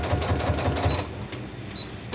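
A sewing machine runs steadily while piecing a crazy crumb quilt block, a close, continuous mechanical chatter with a rapid needle pulse that eases slightly partway through.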